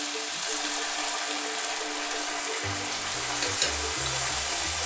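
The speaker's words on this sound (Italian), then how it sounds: "andiamo ad aggiungere il brodo a coprire a livello il nostro riso" Broth poured over rice cooking in a pan for Monza-style risotto, a steady close sizzle and bubbling that deepens into a fuller liquid gurgle partway through.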